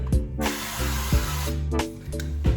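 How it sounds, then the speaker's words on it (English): Extra virgin olive oil is sprayed onto a pan in a home kitchen in several short, close hissing bursts from a spray bottle, separated by brief clicks and pauses, with no talking. "the first thing I'm gonna do is spray some extra virgin olive oil"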